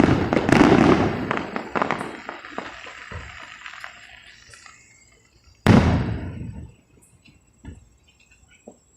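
Rapid-fire fireworks explode in two loud volleys of dense crackling bursts, each trailing off into scattered pops and fizzles nearby.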